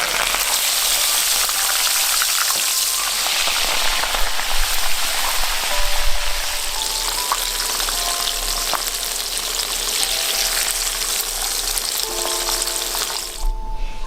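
Chicken with basil deep fries in hot oil, giving a loud, continuous close-up sizzle and crackle that runs steadily for the whole stretch, with a few faint clinks near the end.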